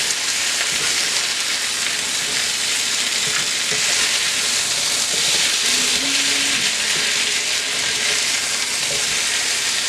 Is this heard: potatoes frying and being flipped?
yes